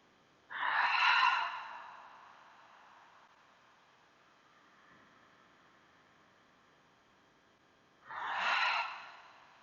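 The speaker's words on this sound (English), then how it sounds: "For 3 breaths, inhale through your nose." Slow breaths during a relaxation exercise: a soft, airy inhale through the nose, a long quiet exhale, then another inhale, close and gentle with no talking.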